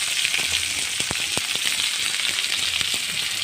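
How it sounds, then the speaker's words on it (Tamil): Chopped big onions sizzle steadily in a pan as the base for a bean gravy, a dense hiss with a few sharp crackles and spatters popping through, close up and with no voices. "வெங்காயம் நல்லா வதங்கட்டும்."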